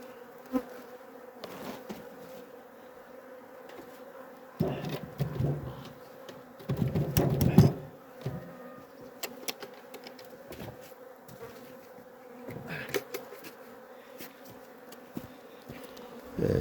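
Honeybees buzz continuously as they are shaken from a frame at a hive, a dense droning hum that swells louder in a few bursts, with occasional clicks and knocks.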